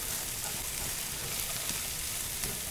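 Chorizo and chicken fry in a Dutch oven on a BBQ, giving a loud, steady, close sizzle that runs throughout with faint stirring scrapes and no talking.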